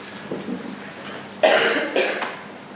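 Two sharp coughs, a moderate one followed about half a second later by another, preceded by a soft throaty sound, with no talking.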